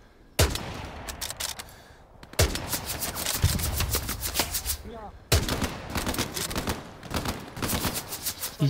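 Rapid bursts of gunfire in the video game Hell Let Loose crackle in long volleys, separated by short pauses, loud and close throughout.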